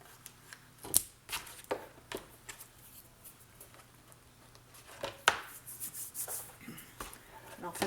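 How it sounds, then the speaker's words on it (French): A blade cuts along thin cardboard on the front of a handmade cardboard storage unit for beads, rhinestones and diamond painting, giving scattered dry scraping snips and rubs at close range with quiet pauses between strokes. "on fait une coupe le long de la cartonnette sur le devant"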